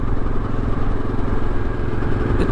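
A rebuilt Honda XRV750 Africa Twin motorcycle with a louder exhaust drones steadily while riding, a dense throbbing engine rumble with wind noise and no talk.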